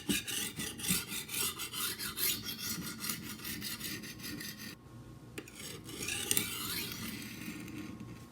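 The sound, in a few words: knife being sharpened on a coarse sharpening stone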